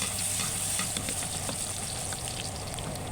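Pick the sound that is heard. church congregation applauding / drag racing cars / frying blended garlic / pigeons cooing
frying blended garlic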